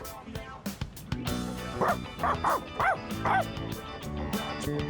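A dog in the video game Persona 3 Reload gives a string of yips and whimpering barks, close and moderately loud, over game music and ambience.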